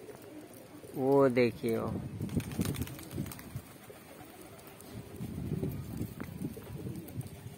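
Pigeons coo near a loft during pigeon flying with an uncle, a short throaty call rising over outdoor background noise while someone talks nearby.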